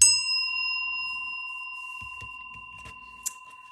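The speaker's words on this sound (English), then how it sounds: "I'm going to take my trusty little mallet, which is a mascara, and I'll be ringing this bell." A small bell is struck once with a mascara tube used as a mallet, giving a bright ding whose steady high overtones ring on and slowly fade, followed by faint soft taps and a light clink.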